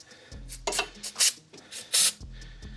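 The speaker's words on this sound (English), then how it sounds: "So I'm going to spray a little bit of fluid film on here" Short hissing bursts of Fluid Film aerosol are sprayed onto the rear wheel bearing area of a 2011–2017 Chevy Caprice PPV, three or four loud close puffs separated by pauses with faint shop noise.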